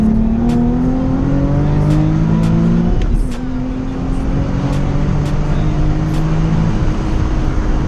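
A Nissan 370Z engine revs up while driving, a loud steady drone that rises in pitch, dips briefly at a gear change, then climbs again, heard close from inside the car.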